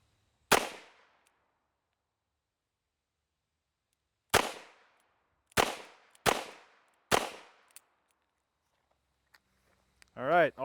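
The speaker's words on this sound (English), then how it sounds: "all 5 rounds went off" A revolver fires five sharp, loud shots during a mud test, one alone and then four in a closer run with short gaps, each snapping off into brief echo, followed by a short burst of voice.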